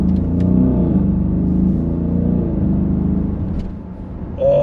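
Audi SQ7 SUV with a V8 engine pulling hard under acceleration, a deep steady rumble with rising revs heard from inside the cabin, loud and continuous with no talk.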